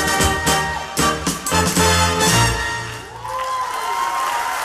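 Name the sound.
audience cheering at dance championship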